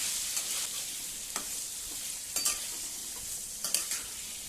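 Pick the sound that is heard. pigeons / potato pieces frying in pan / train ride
potato pieces frying in pan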